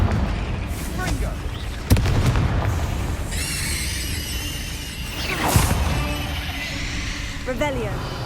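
Explosive spell blasts from Hogwarts Legacy gameplay: two sharp booming hits land a few seconds apart amid dense in-game effects and magical whooshes, with a voice calling out spell incantations.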